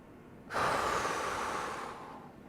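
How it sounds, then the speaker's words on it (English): A deep breathing-out exercise, one long relaxed sighing exhale through an open throat, close and breathy, starting abruptly and slowly tapering off. "Fully breathe out. Relax your throat, sigh out. Keep breathing out."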